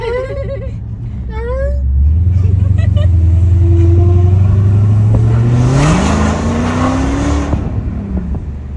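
A Dodge Hellcat engine revs hard close by, a loud deep roar that climbs steadily in pitch over several seconds before easing off, with a person's voice briefly audible at the start.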